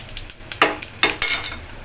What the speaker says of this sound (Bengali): ফোড়নে গোটা জিরে, শুকনো লঙ্কা, তেজপাতা, এলাচ, দারচিনি, লবঙ্গ এই যে একসাথে দিয়ে দিলাম ফোড়ন।